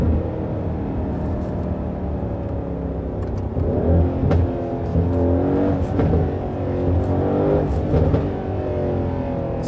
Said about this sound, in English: so you can hear this exhaust backfires